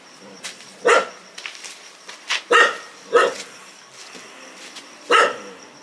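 A dog barks several times at irregular intervals, fairly close, with short gaps of quiet between the barks.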